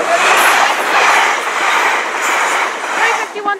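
A train bound for London Euston rushes through Radway Green level crossing in Cheshire, a loud, close, steady rumble with rhythmic wheel clatter; a voice speaks near the end.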